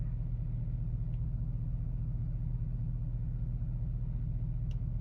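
A vehicle drives slowly into a hunting camp in British Columbia, its engine a steady low rumble throughout with no talk.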